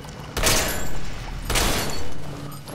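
Gunfire in the video game Resident Evil 6: two heavy, booming shots about a second apart, each with a long, noisy rumbling tail, loud and close.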